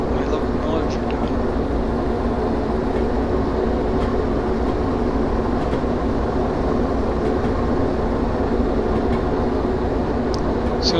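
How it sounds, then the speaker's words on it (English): Locomotives shunting near a switch at an iron ore mine in the Derail Valley train game, a steady low rumble of rolling rail cars with faint clanks, continuous and fairly loud throughout. "I gotta pay attention to what my locomotives are doing."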